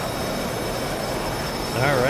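A jet aircraft engine running in the DCS World flight game, a steady broadband roar with a wavering whine rising near the end.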